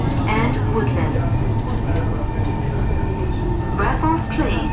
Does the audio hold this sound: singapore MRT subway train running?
yes